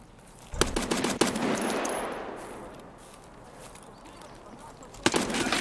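Gunfire in the video game Escape from Tarkov: a cluster of loud, close shots near the start, a fading echo after them, then another burst of shots at the end.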